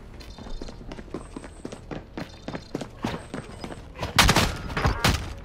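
Bursts of gunfire in a Call of Duty Modern Warfare match, sharp cracks scattered through the clip and heaviest near the end, with footstep-like thumps between shots.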